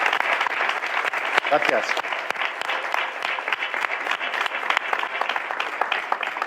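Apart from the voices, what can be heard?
audience applause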